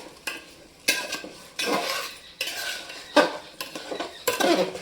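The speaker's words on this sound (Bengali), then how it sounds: "এবার আমি আবারও কিছুক্ষণ ধরে নাড়াচাড়া করে নেব চালটা দেওয়ার পরে একটু চালটা ভেজে নিতে হবে" Rice for Bengali white pulao being stirred and fried in a pot: repeated scraping clatters of a spoon against metal in irregular bursts, with a faint sizzle underneath and no voices.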